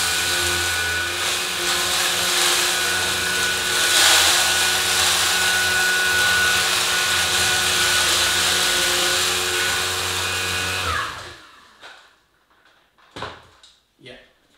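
A Blade 2 Max cordless vacuum runs with a steady loud whine and motor hum while picking up rolled oats from carpet, then cuts off abruptly, leaving a few faint knocks and rustles.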